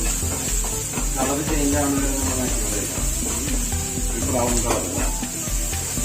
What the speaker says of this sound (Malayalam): ഉള്ളി വഴറ്റാൻ വേണ്ടി കുറച്ച് ഉപ്പിടുന്നുണ്ട്